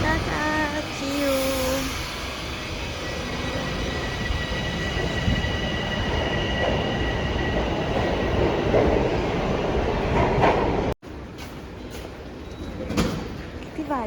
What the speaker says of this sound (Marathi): Bye by train.